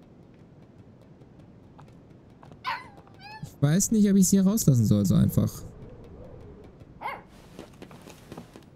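Puppy Mushroom in the video game Life is Strange 2 whimpers and gives a few yelps in a short, loud burst midway, with people talking before and after.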